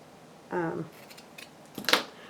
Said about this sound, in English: I don't know if these scissors are going to cut this very well.